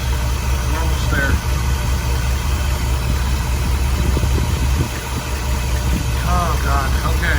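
A 1961 Dodge D300 truck engine running at a steady low idle with a constant deep rumble and vibration, close and loud, while someone talks over it.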